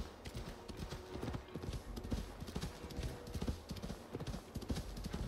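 Horse hooves clip-clop at a steady galloping rhythm while riding through a dense forest in the video game Assassin's Creed Valhalla, close and continuous, with faint ambient sound underneath.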